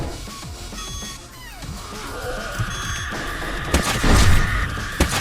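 Gunfire in the retro first-person shooter Seventh-Battle of the Boomer Shooter, rapid repeated shots mixed with whooshing weapon effects and a couple of louder booming impacts near the end.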